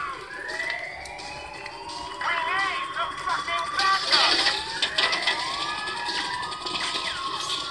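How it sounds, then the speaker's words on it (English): Police sirens wail in Grand Theft Auto V on PS4, overlapping rising and falling tones that grow louder midway and stay prominent over a low engine background. "Broken siren."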